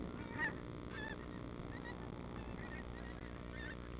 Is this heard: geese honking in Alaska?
yes